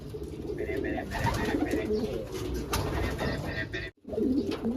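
Racing pigeons coo softly and repeatedly nearby, their low rolling calls layered over faint background noise, with a brief gap near the end.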